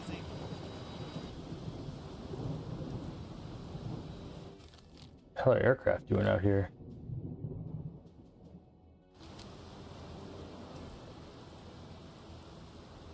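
Rain and thunder roll over the open Atlantic around a surfacing U-boat in a naval video game, a steady stormy rumble that drops out briefly while someone speaks, then resumes.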